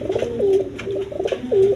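A pair of Giyachulli pigeons coo repeatedly, with several low, drawn-out calls close by over a soft background hum.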